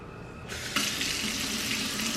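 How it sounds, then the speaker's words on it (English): Tap water runs steadily into a measuring cup in a kitchen sink, the stream starting abruptly and then gushing in a constant, close hiss. "I'm going to grab a measuring cup and just fill it with some water"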